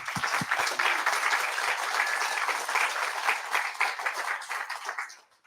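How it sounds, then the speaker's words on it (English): Sustained applause from a show-and-tell event audience, dense steady clapping that carries for several seconds before tapering off at the end. "big round of applause for Martin, please."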